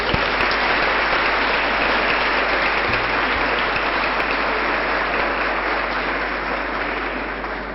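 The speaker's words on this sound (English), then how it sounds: "the instinct is for everyone to give themselves an applause" Audience at an event gives a long round of applause, dense and continuous at a steady loudness before tapering slightly toward the close.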